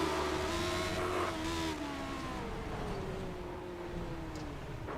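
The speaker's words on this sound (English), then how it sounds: "Hearing the cars coming, not knowing where they're at." Race cars on a Nashville speedway approach and rev, a loud sustained engine roar with shifting tones that swells and fades slightly over several seconds, with no talk.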